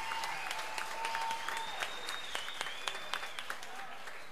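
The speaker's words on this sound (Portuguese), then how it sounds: "Palmas para ele." Steady applause from an audience, dense clapping throughout with a sustained tone running under it.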